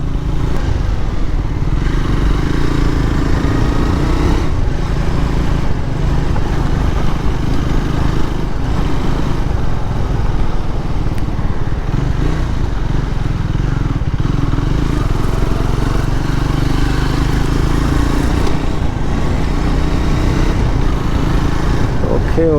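A Triumph Scrambler 400X being ridden, its exhaust giving a loud, continuous engine drone that rises and falls gently with the throttle over about twenty seconds, with wind rush mixed in.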